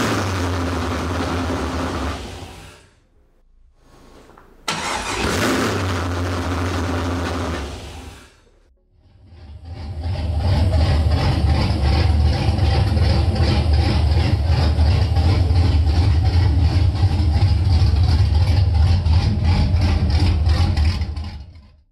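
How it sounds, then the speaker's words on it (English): An LS1 V8 in a 1982-1992 Camaro or Firebird cranks briefly, stalls into silence, then catches on the ignition button and settles into a loud, steady, rumbling idle close by. "A quick hit of the ignition button and the engine started for the first time."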